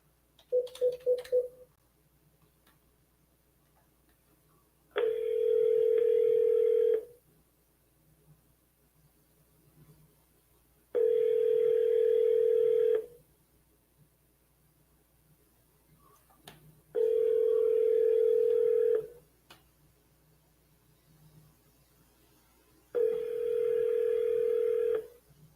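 A phone dialing an outgoing call gives a brief burst of keypad tones, then a ringback tone sounds four times in even, spaced pulses with quiet gaps between, clear and close.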